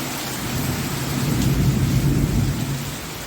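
Heavy rain pours down in a steady dense roar after a long heatwave, with low rolling thunder building beneath it and no voices.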